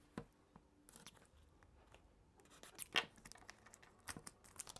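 Packaging of a DJI Osmo Pocket 3 box being torn open by hand, a few soft scattered tearing and scratching bursts, close and fairly quiet, with one sharper crackle in the middle.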